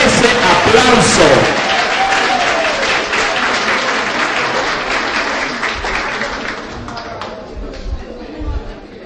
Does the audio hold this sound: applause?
yes